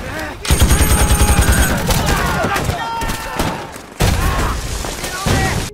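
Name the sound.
gunfire from a film scene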